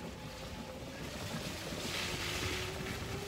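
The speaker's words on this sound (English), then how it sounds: "We're riding a golf cart" Golf cart driven along outdoors in Texas, a steady broadband motor and rolling hum with wind buffeting the microphone, continuous and close throughout.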